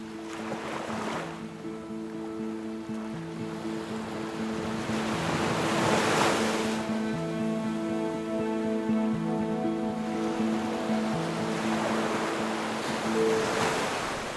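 Sea waves wash against coastal rocks in a continuous surf roar that swells and recedes, with a steady low tonal hum underneath.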